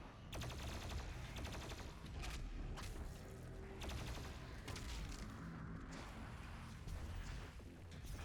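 Plasma rifle firing in the video game Doom Eternal, rapid repeated energy bursts in sustained volleys with brief pauses, loud and up close over constant combat noise and heavy music.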